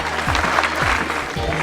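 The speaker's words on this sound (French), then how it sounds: "On applaudit bien fort" A stand-up comedy audience claps briefly to welcome the comedian on stage. The short burst of applause is mixed with a speaking voice.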